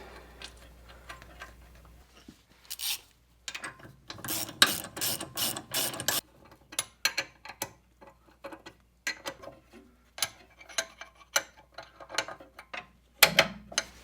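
A hand ratchet clicks in quick irregular bursts as brake bracket bolts are tightened on a T3 VW Vanagon during a rear disc brake install, close and crisp, with short pauses and no talk.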